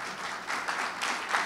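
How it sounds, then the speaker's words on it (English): A church audience at a Veterans Day holiday concert gives a round of applause for veterans: steady, dense clapping that stays fairly loud throughout and swells slightly in waves. "Let us salute our veterans with a huge round of applause."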